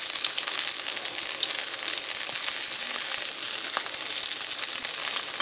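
Chunks of rutabaga sizzle and fry in a pan as they brown, a steady, close, hissing crackle that holds at an even loudness with no voices.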